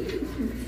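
Racing pigeons coo in a short, low, continuous murmur at close range, with no talking over it.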